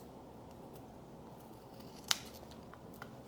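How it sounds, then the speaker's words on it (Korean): Scissors trimming leather lining flush with a purple outer leather during piping work, heard as a single sharp snip over faint background hiss, no talking. "이 튀어나온 것은 가위 가지고 이 겉감 보라색에 맞춰서 그냥 깔끔히 잘라버리시면 됩니다"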